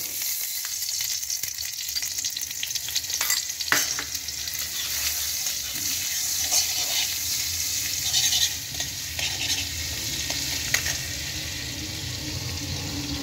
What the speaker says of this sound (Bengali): এবার আমি দেব কড়াইতে একটু ঘি আর একটু মাখনের সাম্বার।